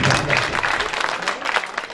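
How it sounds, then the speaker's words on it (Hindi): Dense applause from a crowd at an outdoor political speech by a former member of parliament, a steady close wash of clapping with a possible voice mixed in, fading slightly toward the end. "उस पर आपकी तालियों ने बताया कि"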